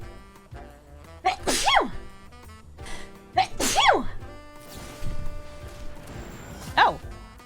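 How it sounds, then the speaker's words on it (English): Two sharp sneezes from a player gaming on Brawl Stars, then a third brief burst near the end, each loud and close, rising and falling over quiet background game music. "Oh, I think I'm gonna sneeze."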